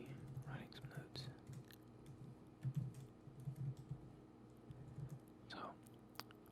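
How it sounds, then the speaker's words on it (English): Soft, close keyboard typing in irregular bursts, with faint whispered speech and small mouth sounds in between. "I really enjoy the sound of a keyboard"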